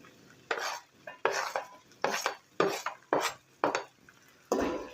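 Potatoes are stirred into fried onions in a wok in about seven rhythmic scraping strokes of a spoon against metal, each one a close, loud rasp over a faint sizzle.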